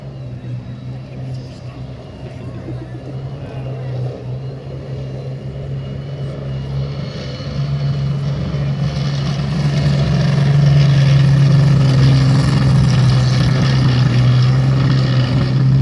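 A Combat Vehicle Reconnaissance Tracked armoured reconnaissance vehicle runs at a museum demonstration, its engine a loud, steady low drone that swells over about fifteen seconds, with someone talking over it throughout.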